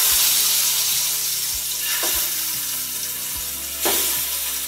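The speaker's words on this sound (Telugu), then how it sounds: "ఈ ఎగ్స్ని కూడా ఈ ఆయిల్లో బాగా ఫ్రై చేసుకోవాలి" Eggs fry in hot oil in a pan for egg biryani, a loud, steady sizzle with a few sharp scraping stirs.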